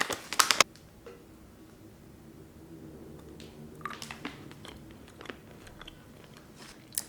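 Amla, the Indian gooseberry, coated in a spice mix being bitten and chewed close up: a few sharp crunchy bites at the start, then quiet, moist chewing with occasional louder crunches, no talking.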